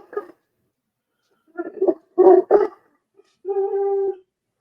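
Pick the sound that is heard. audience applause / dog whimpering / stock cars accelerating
dog whimpering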